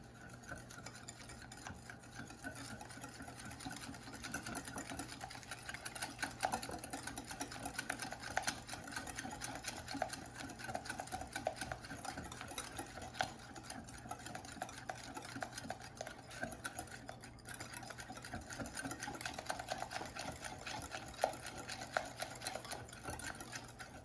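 An electric mixer whirs steadily while blending sesame cookie batter with vanilla, a continuous motor drone with light clinking against the bowl lasting the whole stretch, with no voices.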